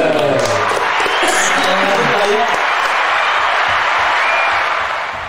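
Audience applause fills a podcast studio at a sales awards event, a dense, steady wash of clapping with some cheering that carries loud throughout and tapers slightly at the end.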